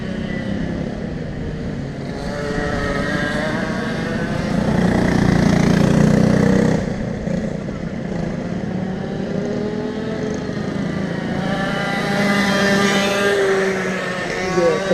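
A racing kart engine held flat out while running laps on a track, a continuous buzzing drone that rises and falls as the kart passes nearer and farther, with no talk.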